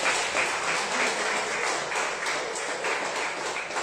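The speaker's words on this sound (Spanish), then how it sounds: "Denle un buen aplauso al Señor, hermano." Church congregation applauding during a worship service, a steady wash of clapping hands that fills the room at a fairly even level, with faint voices underneath.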